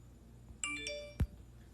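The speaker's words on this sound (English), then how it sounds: "Man, I be disliking when my phone be going off." A phone ringtone sounds briefly, a quick run of bright chiming electronic notes, fairly faint in a quiet room, followed by a soft thump.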